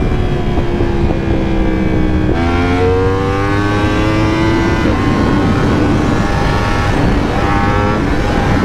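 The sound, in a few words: sport motorcycle engine revving, Yamaha R1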